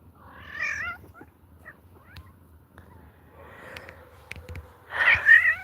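A cat meows twice, a wavering cry near the start and a louder, longer one at the end, with quiet rustles and small clicks in between.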